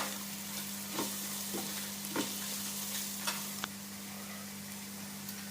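A goat brain masala with green chillies is stirred in a pan: a soft, continuous sizzle under a steady low hum, with a few light spoon taps spaced through it, no talk.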